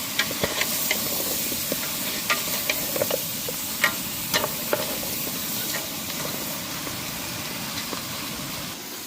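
Mutton curry is stirred in a pan while cooking outdoors in a palm oil farm: a steady frying hiss fills the background, with scattered scraping clicks from the stirring spoon at irregular intervals, close and moderately loud.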